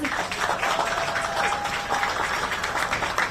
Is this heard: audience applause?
yes